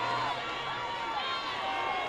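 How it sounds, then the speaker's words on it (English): Crowd cheering at a 2024 girls lacrosse game between Lake Oswego and Jesuit, a steady, dense roar of many voices held at even loudness throughout, with no single voice standing out. "You can hear the crowd"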